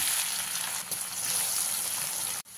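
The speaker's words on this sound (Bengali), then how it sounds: "এইভাবে একই পদ্ধতিতে বাকি কচুগুলো আমি ভেজে নেব।" Pieces of taro frying in hot oil over a medium flame give a steady, close sizzle that runs unbroken almost to the end, then cuts out briefly and resumes.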